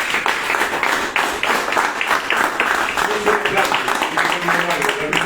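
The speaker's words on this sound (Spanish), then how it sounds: "Así que vamos a darle un fuerte aplauso a Marcelo" An audience at the opening of a training space at an education institute gives loud, continuous applause, with sustained dense clapping and voices mixed in throughout.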